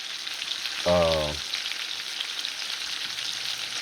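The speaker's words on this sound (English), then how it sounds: "Gonna let that other side cook a little bit" Pot roast sears in a hot pan with a steady, even sizzle heard up close throughout, interrupted briefly near the start by a short tonal hum or vocal sound.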